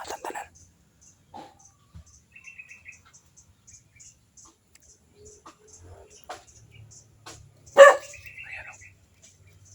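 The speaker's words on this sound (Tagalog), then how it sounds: "Ayan, tumawal yung aso ko." A dog barks in short, scattered yelps across a quiet setting, with one sharp, loud, close bark near the end, over faint chirping and sparse background sounds.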